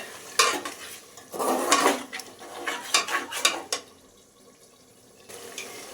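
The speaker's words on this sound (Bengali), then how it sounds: "মাটনটা দিয়ে এবার এটাকে কষিয়ে নিতে হবে" Marinated mutton being stir-fried with browned onions in a pressure cooker pot for shahi biryani, with loud bursts of metal spatula scraping and clattering against the pot over a low sizzle, then a quieter pause.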